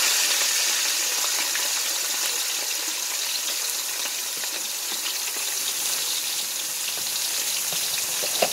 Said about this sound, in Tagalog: Mag-fried ako ng chicken.